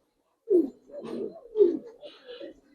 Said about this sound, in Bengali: ভাই এক জোড়া সাপচিলা কবুতর দেখেন ভাই